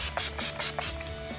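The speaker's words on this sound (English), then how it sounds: "And now for some Urban Decay All Nighter Makeup Setting Spray." Urban Decay All Nighter makeup setting spray misted in several short bursts, each a soft close hiss, over a faint steady background hum.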